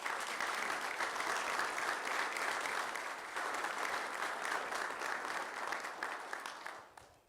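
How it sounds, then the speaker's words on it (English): A room at a village board meeting breaks into steady applause for a police sergeant, dense clapping from many hands that holds for several seconds, then fades out. "So one last round of applause for Jason as a sergeant."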